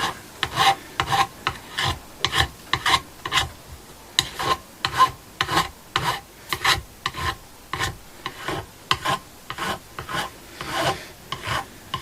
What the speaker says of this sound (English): from this point everything will be much smoother as we work it with sandpaper